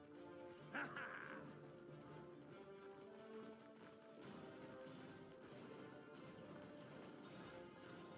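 Horse hooves in the Realm of Thrones video game clop steadily beneath a busy wash of game ambience and music, with a brief louder burst near the start and no talk.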